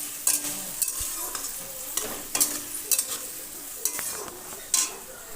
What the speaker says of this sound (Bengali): ভালো করে নেড়ে চেড়ে 3-4 মিনিট ধরে ডাঁটাটা ভেজে একটি পাত্রে উঠিয়ে